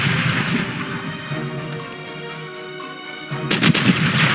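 Ship cannons fire in Corsairs Legacy, a naval video game: a quick cluster of sharp booms late in the stretch, after a fading rumble, set against a steady musical background.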